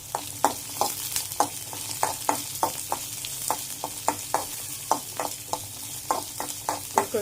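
Garlic and cumin fry with green chillies in oil for Andhra-style coconut and raw mango chutney, a close sizzle broken by repeated sharp spoon scrapes and taps in an uneven rhythm, with no speech.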